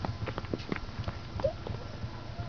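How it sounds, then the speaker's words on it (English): A horse's hooves clip-clop in irregular steps close by, a run of soft knocks with a brief faint squeak partway through and no talking. "Titi, baby, that's a horse."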